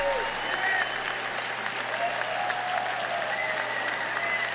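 An audience applauds at the 2023 CPAC conference during a Trump speech: steady, dense clapping from a large crowd, continuous and moderately distant, with faint background voices.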